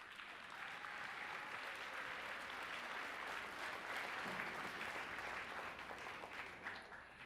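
A high school audience at Wyoming High School applauds its guests, a sustained, even round of many hands clapping that holds steady for several seconds without talk over it, tapering slightly at the end.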